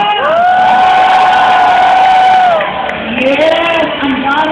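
At a band's concert opening, a large crowd screams and cheers loudly, with long sustained shouts and whoops over scattered clapping, dipping briefly then rising again as voices carry across the venue.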